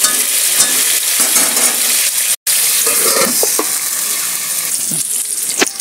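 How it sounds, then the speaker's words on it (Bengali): Potatoes fry loudly in oil in a pan while being stirred, a dense continuous sizzle broken by a brief gap and scattered scraping and clinking of the spoon, with no voices. "আলুটা বেশ ভাজা ভাজা হয়ে গেলে"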